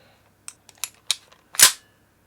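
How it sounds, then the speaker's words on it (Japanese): An APFG MCX Rattler gas blowback airsoft rifle's charging handle is worked to release the closed bolt, giving a few sharp plastic-and-metal clicks followed by one louder snapping clack, close up with no talking. "クローズドボルトでボルトリリースは2パターンあります。 1つ目がチャージングハンドルを引くこと。"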